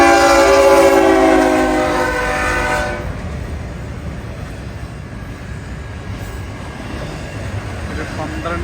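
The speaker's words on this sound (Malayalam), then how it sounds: "ഇവിടെ ഇപ്പം റെയിൽവേ ക്രോസ് അടയുകയാണ്, ട്രെയിൻ വരുന്നത് നമുക്കൊന്ന് നോക്കാം." A long train rolls past a railroad crossing near Yosemite, its loud horn sounding close for the first few seconds before giving way to a steady rumbling roar of the passing cars.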